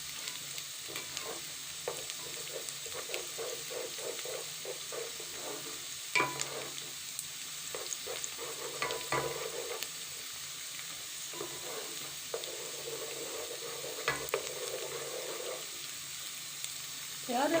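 Onions frying until light brown for chicken nihari, a soft steady sizzle with frequent stirring scrapes and occasional clinks of a spoon against the pan.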